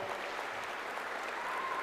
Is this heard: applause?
yes